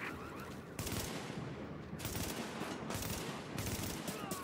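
Rapid automatic gunfire from Tom Clancy's The Division, steady bursts of loud close shots in several volleys with short gaps between them, no voices over it.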